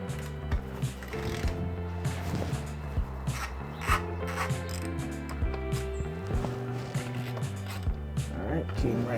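Ratchet working a bolt loose on a Ducati V4S motorcycle during a coolant flush, a run of rhythmic clicking strokes, close and moderately loud, with faint talk in the background.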